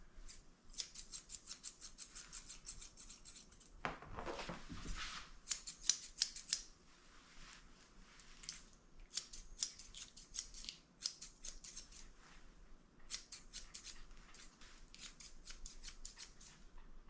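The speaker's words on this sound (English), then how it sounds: "I'm trimming her ears into a little point so they stick out the top of her hair" Grooming scissors trimming the ear hair of a Pomeranian dog into a point, with repeated quick close snips in bursts and a brief rustle of handling midway, no talking.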